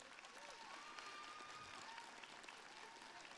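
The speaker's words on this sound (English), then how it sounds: "Can we please get a massive round of applause to the good sport down the front here?" A convention crowd in a main hall claps steadily throughout, a dense wash of applause at even volume with a faint voice or two mixed in, during an auction.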